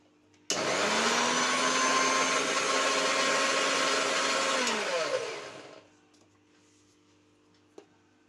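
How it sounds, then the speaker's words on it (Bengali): Kitchen mixer grinder blending neem leaves with turmeric, a loud steady whirring whine for about five seconds that winds down to a stop, followed by near silence and a faint tap. "নিম পাতাটা আমি একটুখানি এই ব্লেন্ড করে নেব"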